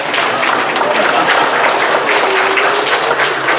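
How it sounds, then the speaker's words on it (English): Congregation at a Buddhist church service in Sacramento gives loud, continuous applause, a thick even roar of many hands clapping nearby, with faint voices underneath. "You should give all of yourselves a hand for helping me out."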